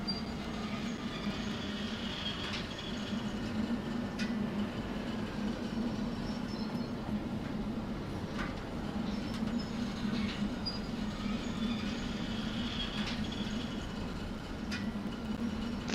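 A long freight train pulled by three locomotives rolls steadily along in the Derail Valley simulator, carrying about 800 tons, with a constant low rumble, squealing wheels and periodic clanks and knocks along the track.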